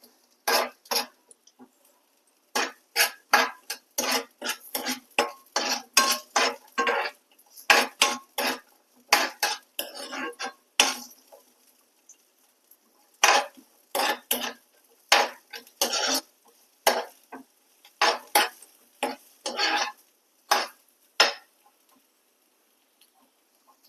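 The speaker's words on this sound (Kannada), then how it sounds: "ಇದು ನೋಡಿ ಫ್ರೈ ಆಗ್ತಿದೆ." Onion and garlic being fried in oil in a pan for a Mandya-style basaru, with steady spoon stirring that sends repeated clinks and scrapes against the metal. The bursts come close together with short pauses between them.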